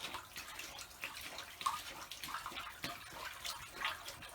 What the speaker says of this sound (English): clean them in the first bucket while it's filling up